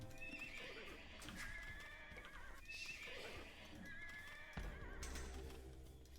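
Horses in Age of Empires II neigh and whinny twice over clip-clopping hooves and game sounds, moderately loud with no speech.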